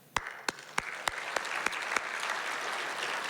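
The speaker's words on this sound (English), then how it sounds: "we applaud you for that" Applause at a Startup Westport Innovator of the Year awards event, opening with several sharp separate claps that quickly merge into a sustained round of clapping from the audience, moderately loud and close.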